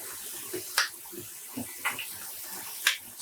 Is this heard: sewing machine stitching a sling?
no